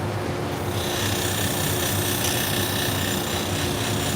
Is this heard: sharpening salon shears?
yes